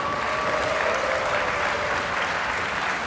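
Steady, sustained applause from an audience at a choir concert, even and continuous throughout.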